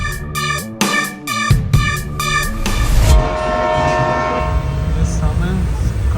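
Interior ambience aboard a moving train: a steady low rumble and rattle fills the whole stretch, with a horn-like tonal blare in the opening seconds, heard close and fairly loud with no clear talk.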